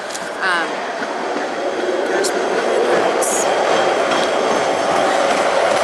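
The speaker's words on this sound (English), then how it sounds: "Something's going along the train tracks right now." A train runs along nearby railroad tracks as a loud, continuous rumbling roar with faint squeals and clatter, while a person talks.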